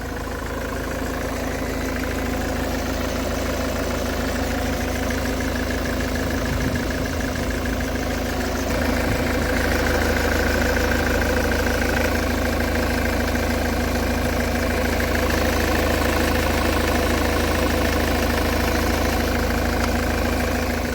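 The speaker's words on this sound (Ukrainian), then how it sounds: "Йдемо слухати двигун" A 2011 Ford Kuga engine idles steadily up close, a constant low rumble with a faint whine that rises slightly partway through.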